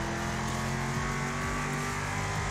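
Race car engines roar continuously in the Wreckfest video game, a dense, loud, steady engine drone with pitch sweeps as cars rev and shift, no voices over it.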